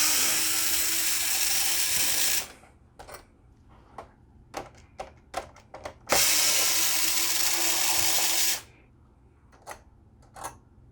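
A small powered screwdriver whirs in two sustained runs while removing screws from a PlayStation 3 Slim (3001 model) Blu-ray drive, with sharp clicks and rattles between them.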